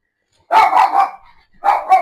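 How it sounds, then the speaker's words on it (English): Small Yorkshire terriers let out a few sharp, high-pitched barks close by, in two quick bursts separated by a brief silence. "excuse my dogs, they hear people and they start barking."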